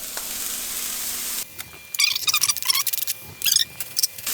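Kale hits hot oil in a pan and sizzles in bursts, crackling and spitting close by, with quieter stirring sounds in between after a softer opening hiss.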